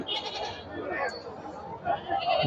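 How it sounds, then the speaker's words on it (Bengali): Black Bengal goats bleat at a busy Sunday livestock market, several overlapping cries near and farther off mixed into a constant crowd murmur and chatter of buyers and sellers. "দেখেন হাজার হাজার সব ব্ল্যাক বেঙ্গল জাতের ছাগল কেনা বেচা হচ্ছে"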